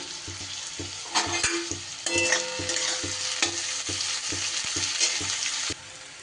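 Finely chopped onions fry with salt in a pan: an even close sizzle carries steady, rhythmic scraping strokes of stirring throughout, with no voices.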